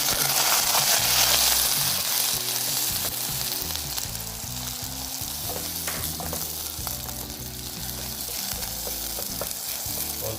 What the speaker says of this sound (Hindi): मीडियम फ्लेम पर 6 से 7 मिनट के लिए प्याज को फ्राई होने देते हैं